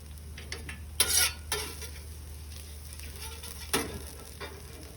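Food fries softly on a griddle slicked with olive oil, a low sizzle under a few scraping spatula strokes and light metal taps.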